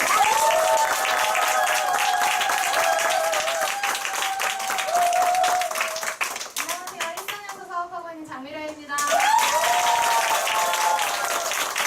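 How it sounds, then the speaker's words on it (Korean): A seated audience at a business seminar or lecture event gives sustained, loud applause, dips briefly as a voice speaks over a fading patch, then claps again. "사장님들도 큰 박수로 우리 장미라 사장님을 앞으로 오시도록 하겠습니다"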